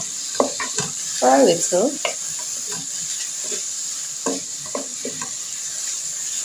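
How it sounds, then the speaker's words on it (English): Garden vegetables being stir-fried in a pan, a sizzle running under the whole stretch with a scraping stir burst near the start and short stirring scrapes after; brief speech is heard. "And just stir them in a little. And to let these stir fry"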